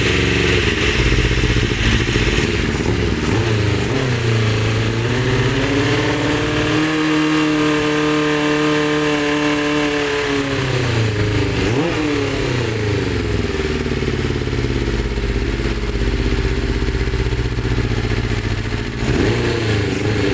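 A Suzuki Bandit 400 motorcycle with a hard-starting fault idles roughly and unevenly close by, its engine note wavering and dipping over a sustained loud drone.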